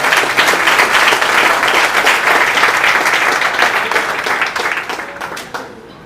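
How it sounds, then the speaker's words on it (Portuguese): Church congregation applauding for several seconds during a service, a dense steady round of clapping that gradually thins and fades toward the end. "Palmas para Jesus, que ele merece."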